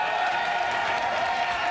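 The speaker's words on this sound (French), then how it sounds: "Sous vos applaudissements, mesdames et messieurs" Studio audience applause for comedian Gad Elmaleh on a French TV show, a steady, dense wash of many hands clapping throughout, loud and continuous with no break.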